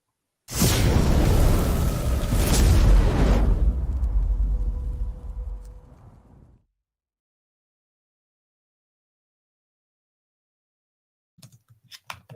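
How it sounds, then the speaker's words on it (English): Stadium cannons fire after a touchdown at an NFL game, Tampa Bay against New Orleans, giving one loud, sustained booming blast. The blast rumbles for several seconds, then fades to silence before faint sounds return at the end. "Fire the cannons."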